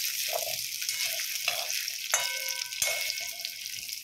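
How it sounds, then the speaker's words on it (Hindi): Peeled potatoes frying in oil over a medium flame for an aloo gobhi matar dish, a soft steady sizzle with occasional stirring clinks, close and fairly quiet. "आलू को भी मीडियम फ्लेम में फ्राई करेंगे।"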